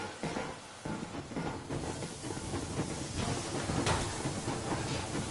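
A steam train in the video game Exodus rolls along steadily, its hissing and rumbling rail noise dense and continuous without a break.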